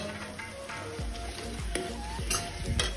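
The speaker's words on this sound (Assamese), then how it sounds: "এইখিনি ভালদৰে ভাজিব মছলাখিনি যাতে ধুনীয়াকৈ সিজিব" Masala with red chili frying in a pan over a low gas flame, a steady close sizzle and crackle with a few soft clicks of stirring.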